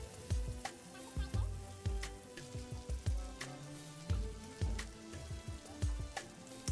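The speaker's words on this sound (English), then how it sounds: "I have been frying the duck meat for almost 15 minutes by now." Duck meat sizzles and crackles in hot oil, with rhythmic scraping and clunks of stirring at close range.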